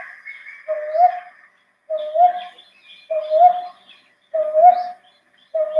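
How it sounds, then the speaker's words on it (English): A brown boobook owl gives its repeated two-note boo-boo call, low hooting phrases at steady intervals with fainter higher bird chatter in the background, moderately close and alone. "This bird is also called as brown bubuk because of the call boo boo."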